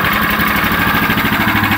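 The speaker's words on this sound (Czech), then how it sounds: "Protože to je benzínový motor" A mini excavator's petrol engine idles with a steady, loud, close drone and an even rhythmic chug throughout, with no voices.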